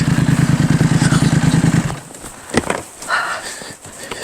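A BMW motorcycle dropped onto the ground. A rapid rhythmic engine idle runs, then cuts off into a sharp clattering impact and some scraping and shuffling afterwards, all close by.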